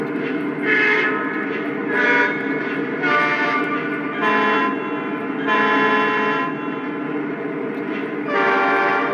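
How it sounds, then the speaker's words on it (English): A loud, close diesel locomotive horn from a Lionel model train sounds repeatedly, several sustained chord-like blasts separated by brief dips over a steady rumble. "So I can scroll through those different horns, but I like the default one"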